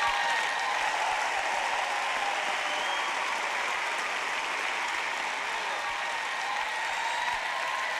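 A church congregation applauding during worship, dense continuous clapping from a large crowd filling the room, loud and steady throughout.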